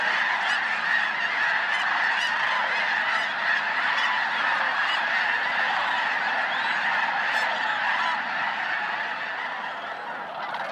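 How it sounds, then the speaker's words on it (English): Huge flock of geese arriving and landing at Bosque del Apache wildlife refuge, a dense, continuous chorus of overlapping honks from many birds, loud and chaotic, tapering slightly toward the end. "After the geese have landed,"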